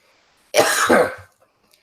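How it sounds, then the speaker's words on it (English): A burst of harsh coughing, two or three rough hacks in quick succession, loud and close, then silence. "That's what that No. cough sounds like."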